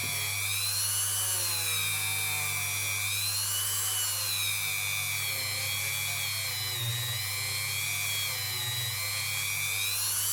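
A rotary tool whirs steadily as it scrubs fire scale off a ring made from a 100 dirham coin, giving a continuous high-pitched grinding whine with slight wavering pitch and a low motor hum underneath, with no talk.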